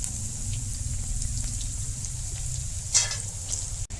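Battered pumpkin leaf pakora fries in oil with a steady, close sizzle and faint bubbling, broken by a brief splash and a light clink near the end.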